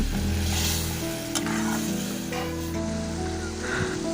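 Water splashed into a simmering curry of taro stems in a hot pan gives a steady, close sizzle and crackle, with faint stirring beneath and no talk.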